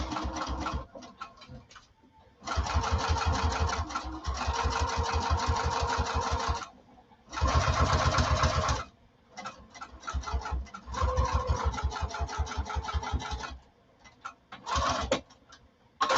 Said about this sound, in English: you're going to stitch down at 1/8 of an inch